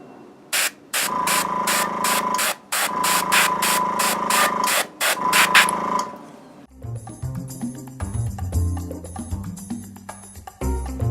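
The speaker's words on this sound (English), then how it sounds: "It's a hard spray. Keeping my airbrush clean and not getting too clogged up" An airbrush sprays weathering paint onto a miniature in a series of loud, steady hissing bursts with short gaps between them, then stops, leaving quieter rustling and clicking handling sounds.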